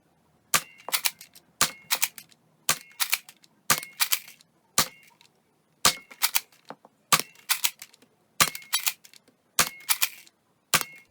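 A Nerf Rival Vision blaster fires regular Rival foam rounds in sharp, snappy pops, about a dozen shots in quick pairs and short bursts with brief pauses between them, close and clear with no talking.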